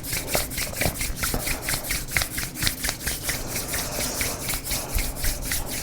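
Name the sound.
rubbing palms together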